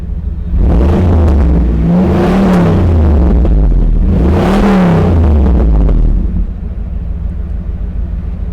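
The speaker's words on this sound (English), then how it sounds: "let me just rev it up a little bit for you so you can hear this baby roar" A 1997 Chevrolet Camaro Z28 engine revs loudly twice, each rise in pitch climbing and falling, then settles into a rumbling idle.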